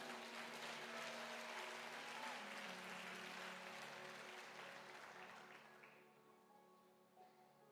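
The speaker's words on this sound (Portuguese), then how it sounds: "Pode aplaudir, pode aplaudir." A church congregation applauds in a dense, sustained burst that gradually thins and fades over the final seconds, leaving soft lingering organ-like tones and scattered claps.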